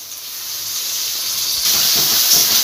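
Tomato paste sizzling in hot oil with onion, ginger and garlic while cooking chicken curry with potatoes, a steady close hiss that grows slightly louder partway through, with faint stirring scrapes near the end.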